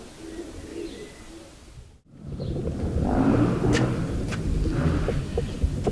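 A prize-winning racing pigeon, the Hayabusa King, coos softly in a loft, low throaty calls under a steady rumble of background noise that grows louder partway through.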